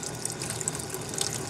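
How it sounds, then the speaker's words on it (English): Water runs steadily from an RV tap while the onboard water pump drives it, giving a continuous close rushing hiss with a low pump hum underneath, no talk. "When you turn on the water, it sounds like you're running something major."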